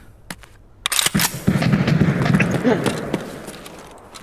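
In the Escape from Tarkov video game, a quick run of sharp gunshots breaks out, followed by a dense, rattling burst of rapid fire that slowly fades.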